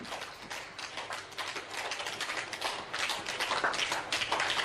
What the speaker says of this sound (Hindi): इस दौरान मेडिकल स्टाफ ने इन्हें तालियां बजाकर घर के लिए रवाना किया।